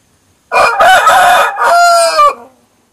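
A golden rooster on a countryside smallholding gives one loud, close cock-a-doodle-doo crow lasting about two seconds, alone against silence.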